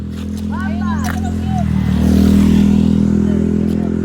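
A motorcycle engine hums steadily nearby, then revs up louder midway. Speech and other voices are audible in the background.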